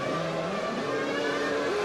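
A Formula One car at the 2006 Monaco Grand Prix drives into the pits, its engine note loud, steady and close, with shifting pitched tones as it slows and revs.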